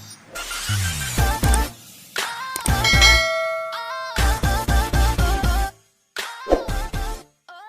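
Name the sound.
notification bell sound effect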